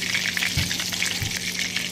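Lote (Bombay duck) fish frying to a dark brown in hot oil, a steady close crackling sizzle with two brief louder spatters, no voices.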